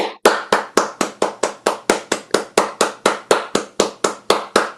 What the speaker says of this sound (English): give Susan a little round of applause